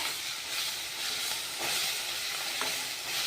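Tomatoes frying in hot oil for a North Karnataka avarekalu palya, stirred in the pan: a steady, close sizzle and hiss with faint scraping of the spoon, no talking.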